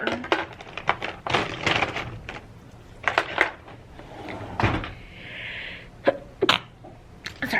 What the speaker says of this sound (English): Sorry, I just sneezed.